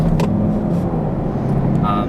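A 2016 Chevrolet Camaro 2SS pulls out into traffic, its engine a steady mid-level drone with road and traffic noise around it, heard from close by while a voice talks over it.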